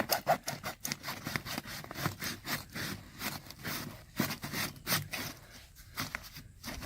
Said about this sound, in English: We're just going to cut right through the pipe